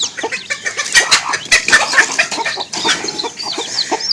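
A hen clucks repeatedly nearby while small chicks peep in quick high chirps around her.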